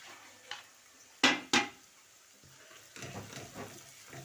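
A utensil scrapes and clanks twice sharply against a pot while onion, garlic and tomatoes are stirred and fried, followed by softer, scattered stirring noises.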